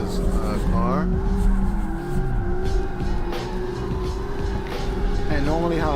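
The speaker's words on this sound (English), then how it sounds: "Right now I can hear the revving" A car engine in the drift game CarX Street revs up and down in sweeping pitch rises, with a voice talking over it most of the time.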